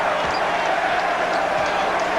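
Sellout basketball arena crowd during a 2003 NCAA men's game between Xavier and Dayton, a dense, steady roar of many voices filling the space with no single shout standing out.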